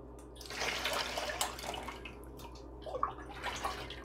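Liquid ginger beer mixture trickles and splashes softly through a fine mesh straining bag into a container, with a few brighter drips toward the end, close by and fairly quiet, no talking.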